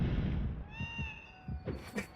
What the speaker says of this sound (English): The cat noises.